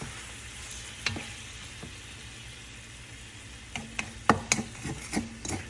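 Meat browns in a hot pan for gravy, giving a steady soft sizzle broken by several clicks and scrapes as the pieces are flipped toward the end.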